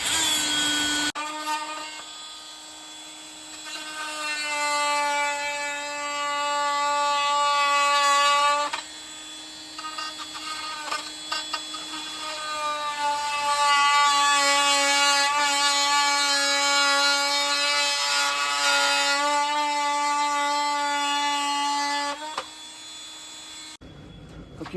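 A taped-up oscillating multi-tool cuts a plastic grille piece off a GMC 1500 pickup during a Rough Country PreRunner bumper install. It gives a steady, buzzing whine heard up close, with a brief pause midway and slight pitch shifts as it bites.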